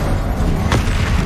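A Confringo fire spell goes off in Hogwarts Legacy, a single sharp burst with a boom at mid-clip, set over a dense, loud wash of ongoing combat noise.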